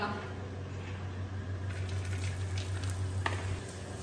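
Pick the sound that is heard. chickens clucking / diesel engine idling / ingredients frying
ingredients frying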